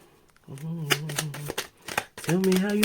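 Tarot cards being riffled and shuffled, two bursts of crisp rapid flutter separated by a short pause, close and clear, with a soft voice speaking around them.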